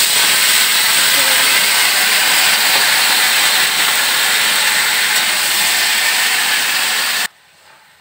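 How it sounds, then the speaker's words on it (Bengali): Mustard seeds and dried red chili hit hot oil for tempering, giving a loud, steady crackling hiss that holds for about seven seconds and then cuts off sharply into near silence. "এইবার আমি সর্ষে আর একটু শুকনো লঙ্কা ফোড়ন দেব।"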